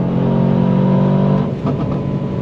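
An Aston Martin DBX 707 SUV of about 697 horsepower under way, its engine droning loud and steady from inside the car before the note dips and wavers near the end, with no talking.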